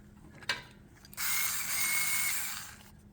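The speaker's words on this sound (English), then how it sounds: "Let's tighten up the clamp here first." A small hand ratchet tightens a hose clamp on a Jeep Wrangler air filter, one sharp click followed by a sustained metallic whirring rasp lasting a couple of seconds, close up, no talk.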